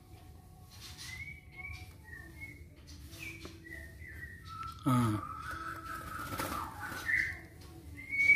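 Caged magpie robins (murai batu) give short whistled calls and chirps during a morning care routine, with a louder burst of song partway through over a low background hum; someone says a single word.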